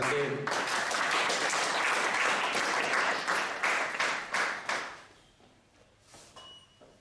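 Audience at a parents' mental health conference clapping in a burst of hand claps that thins out and fades to a few scattered claps by the end.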